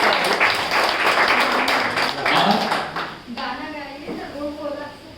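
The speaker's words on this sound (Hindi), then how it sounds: "जोरदार तालियां इनके लिए होनी।" Audience applause at the closing ceremony of a Zen Yoga crash course, dense clapping that fades after about three seconds as voices and someone speaking take over.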